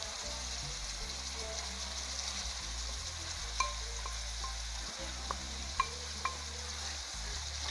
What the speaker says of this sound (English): so you stir the vegetables in gently